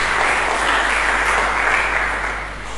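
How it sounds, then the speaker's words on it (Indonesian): A church congregation applauds in praise during a sermon, with dense, steady clapping that fills the whole stretch at full loudness and eases slightly at the end. "Berikan tepuk tangan bagi Yesus Kristus."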